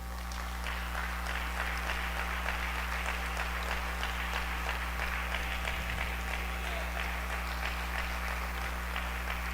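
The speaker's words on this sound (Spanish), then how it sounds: "Da un aplauso a tu Señor" A church congregation gives a sustained round of applause after a sermon, with the clapping fairly distant and steady, under a constant low electrical hum and a faint murmur of voices.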